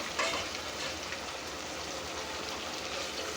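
Broad beans fry with onions in a pan, a soft continuous sizzle and crackle at low volume with faint stirring, no voices.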